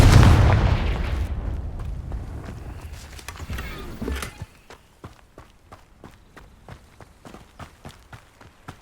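A Confringo blasting spell explodes in Hogwarts Legacy, a loud, close burst that rumbles and fades over several seconds before steady footsteps take over.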